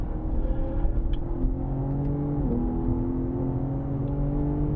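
A BMW M car accelerates uphill on the Sonoma Raceway track, heard from inside as a steady engine drone that rises in pitch, with a brief shift dip midway and wind rumble underneath.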